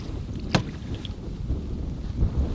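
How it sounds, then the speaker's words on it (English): Wind gusts over a canoe on Lady Evelyn Lake in Temagami during an ice-out spring trip, a steady loud rumbling buffet at the microphone with a brief sharp knock near the start and soft water sounds beneath. "Oh, hello, wind."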